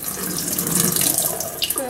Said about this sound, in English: So our first step is to open both cans of corn, drain them out, and then put the corn in our bowl.